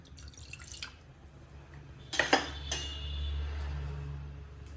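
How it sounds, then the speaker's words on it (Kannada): Water poured into a cooking pot for amla (gooseberry) rasam, heard as a few short splashing bursts over a low steady background hum. "ಇದಕ್ಕೇನೆ ನಾನೀಗ 1 ಗ್ಲಾಸ್ನಷ್ಟು ನೀರು ಹಾಕ್ಕೊಳ್ತೇನೆ"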